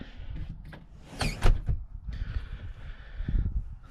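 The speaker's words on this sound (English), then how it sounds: "Get the door open." A door is opened outside on a freezing, dark night, giving a couple of quiet rattling clunks and a brief scrape with soft outdoor rumble behind, and no one speaking.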